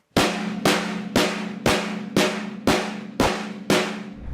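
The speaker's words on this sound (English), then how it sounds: "here's a snare drum" Eight evenly spaced snare drum hits, each a sharp crack with a short rattling decay, played alone at a steady rhythm.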